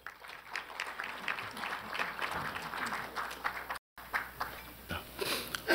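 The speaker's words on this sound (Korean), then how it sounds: "뜨거운 박수로 환영해 주시기 바랍니다." Applause from a breakfast-forum audience in Seoul, a dense, steady patter of many hands clapping at moderate distance, briefly cut out midway, with faint murmuring underneath.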